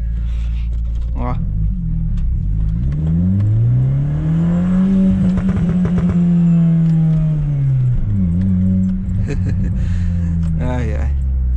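A remapped Chevrolet Astra 2.0 engine revs up, holds a rising whine, then drops back, with crackling exhaust pops and bangs scattered through it on a cold night drive; someone talks briefly over it.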